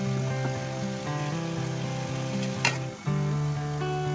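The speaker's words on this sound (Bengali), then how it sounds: "সামান্য জল দিলাম মশলাটা ভাজা ভাজা করার জন্য। এবার ভাজছি।" A coriander and cumin spice paste with a little water fries in a pan, holding a steady close sizzle under a tonal background hum, with one sharp scrape partway through.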